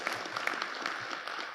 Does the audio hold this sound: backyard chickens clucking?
no